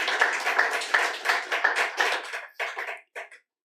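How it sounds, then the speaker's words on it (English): An audience at a poetry celebration of life applauds in a short burst of clapping that swells, then thins to a few scattered claps before stopping. "A round of applause for Elizabeth."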